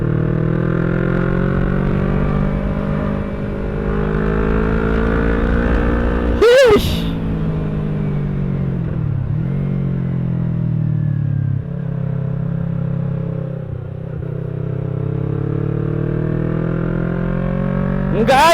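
A 2018 Yamaha R3 motorcycle on a test ride holds a steady droning engine note close by, with a sharp rev spike midway and another rising rev at the end.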